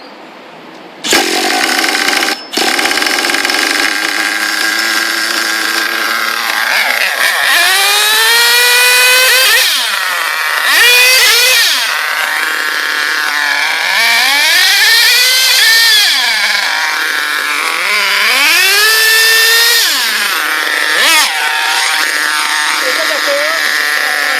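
An HPI Savage 5.9 nitro RC car engine starts up and runs loud and close, revving in repeated rising and falling whines while someone talks over it.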